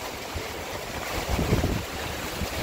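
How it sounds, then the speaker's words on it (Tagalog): Strong typhoon wind gusts over steady rain on a rooftop during Typhoon Uwan in the Philippines, a continuous loud rushing roar that swells briefly in the middle. "Lakas ng hangin sa kaulan."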